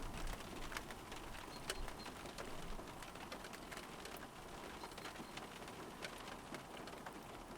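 Steady rain falls across an open marshland nature reserve, a continuous even hiss of drops pattering on surfaces throughout, with occasional faint bird calls in the background.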